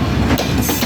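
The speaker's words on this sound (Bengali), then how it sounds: "ট্রেন চলে ঝকাঝক" Train cars clattering through a railway station at Safderpur, a brief, loud burst of rhythmic clickety-clack wheel noise with broad rumble, no voices.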